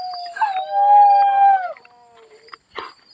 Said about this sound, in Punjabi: ਤੇ ਉੱਧਰ ਬਾਈ ਗਿੱਦੜ ਵੀ ਬੋਲ ਰਹੇ ਆ